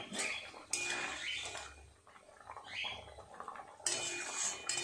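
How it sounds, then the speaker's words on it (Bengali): A pot lid comes off a pot of big cut boiling potatoes, followed by metal utensils clinking and scraping against the pot in bursts, with simmering in between, close and without talk. "ঢাকাটা খুলে এবার দেখব।"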